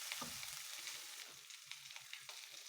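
Dry thyme, ginger and seasoning sizzle in a hot pan, a soft close frying hiss with a few stirring scrapes and taps, fairly quiet and with no voices.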